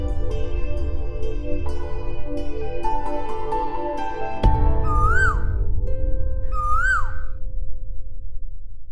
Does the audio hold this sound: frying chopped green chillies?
no